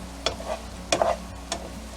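Scrambled eggs with a little butter pushed and pulled around a non-stick pan, a soft low sizzle broken by a few light spatula scrapes and taps.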